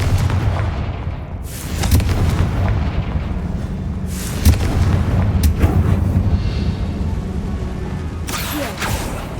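Booming fire-spell blasts from Confringo in Hogwarts Legacy inside a tomb, a dense, loud rumble with several sharp explosive bursts over a constant low roar.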